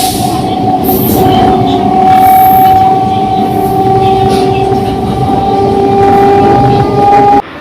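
Loud, steady rumble and rattle of a moving passenger train heard from inside the carriage, with a sustained high tonal whine running throughout and no talk.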